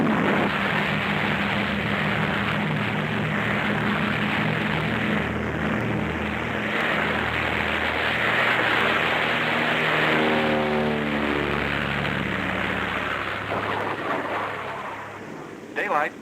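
Propeller planes drone steadily overhead above Antarctic pack ice, a loud continuous engine hum with pulsing harmonics that shift in pitch as the aircraft pass, heard alone without talk.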